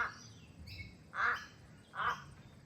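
A crow calls near a backyard bird feeder, giving three separate drawn-out, harsh caws spaced about a second apart, fairly close and clear over a quiet background.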